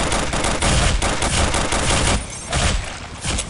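Gunfire fills a fight in Counter-Strike Condition Zero Deleted Scenes: loud, dense bursts of rapid automatic shots overlap continuously for a few seconds with no pauses.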